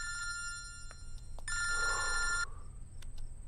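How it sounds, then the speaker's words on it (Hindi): A telephone rings in a tense indoor scene, sounding repeated electronic trilling bursts that pulse in short rings, then one longer sustained ring, with a faint murmur underneath. "फोन उठा, मेरा फोन उठा"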